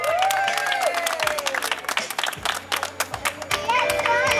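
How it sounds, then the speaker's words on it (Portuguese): Applause and clapping from a crowd at a wedding celebration, dense and loud throughout, with a few voices and whoops mixed in among the clapping. "Uma salva de palmas,"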